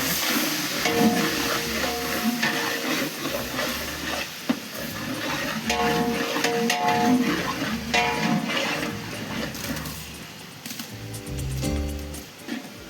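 Continuous hissing and bubbling of masala boiling in a pot close by for a seeraga samba mutton biryani, a steady sizzle with occasional soft clinks and stirring noises.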